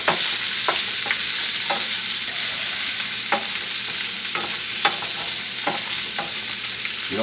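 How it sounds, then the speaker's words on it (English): Sausage searing in a pot for a seafood boil gives a steady, loud background sizzle, broken by a series of sharp, evenly spaced scrapes and clicks from a utensil stirring the pieces. "just want to stir it up a little bit."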